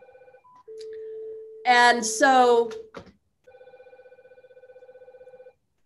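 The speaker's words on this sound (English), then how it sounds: "Sorry, I'm trying to hang up my phone." Telephone ringing near an auction house office: a steady electronic ring tone with harmonic bursts, interrupted by a person speaking briefly in the middle, then the ringing pattern resumes in a regular pulsing rhythm.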